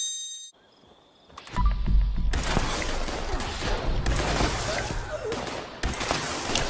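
A weapon firing in Fallout 76, starting after a brief quiet with a heavy thump, then rapid repeated shots with metallic clanks and rattles continuing loud over several seconds.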